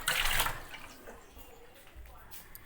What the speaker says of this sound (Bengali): তাই জন্য ডালটা ধুয়ে নিচ্ছি একেবারে, ডালটা ধুয়ে নিচ্ছি।